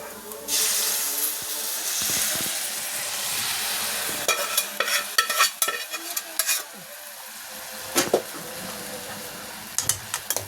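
Cooked beef with turmeric powder stirred in a pan for a Kerala-style beef fry, a steady sizzle under repeated scraping and clattering strokes of a spoon against the pan, louder bursts near the end.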